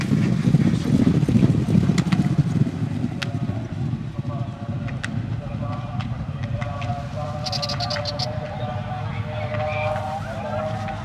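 Racehorses gallop past in race 6, a dense rolling rumble of hooves building and then fading, mixed with crowd noise and someone talking nearby.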